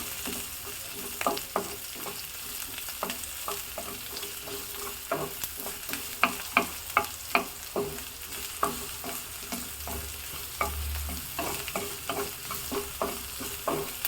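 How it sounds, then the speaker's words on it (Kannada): Finely chopped onions with curry leaves sautéing in a pan for stuffed brinjal curry, a low continuous sizzle broken by frequent sharp scrapes and clacks of a stirring spoon, clustered more densely midway. "ಸಣ್ಣದಾಗಿ ಕಟ್ ಮಾಡ್ಕೊಂಡಿರೋ ಈರುಳ್ಳಿಯನ್ನು ಹಾಕಿದ್ದೀನಿ ಇದನ್ನು ಚೆನ್ನಾಗಿ ಬಾಡಿಸ್ಬೋದು"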